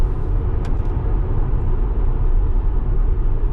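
An electric car drives along, a steady low road rumble and hum filling the whole stretch at a constant level, with a brief faint high tick near the start.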